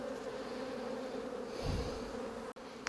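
Honeybees buzz in an opened beehive, a dense steady hum of many insects close by, swelling briefly before a short knock near the end.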